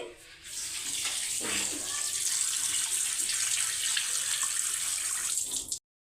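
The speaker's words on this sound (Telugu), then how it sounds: "ఫస్ట్ శుభ్రంగా కడుక్కుందాము" Running water pours steadily while liver is washed clean before frying, a loud, continuous tap-like gush with faint splashing, ending abruptly.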